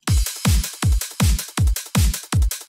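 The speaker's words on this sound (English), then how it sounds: "Now listen to all the drums playing together." Layered electronic happy hardcore drum loop: a punchy kick with a pitch-dropping thump and a more sustained kick, fast four-on-the-floor pattern with crisp hi-hats between beats, loud and upfront with no voices.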